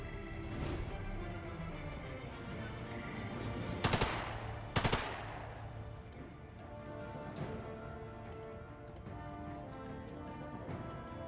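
Gunshots in The Lamplighters League, a turn-based strategy game: scattered sharp reports over a busy musical backdrop, with two loud cracks close together midway and fainter shots around them.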